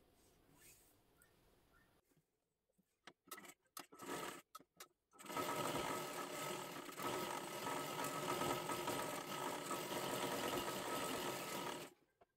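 A sewing machine stitches a saree border: a few short stop-start bursts of needle clatter, then a long continuous run of loud, close mechanical whirring that cuts off near the end.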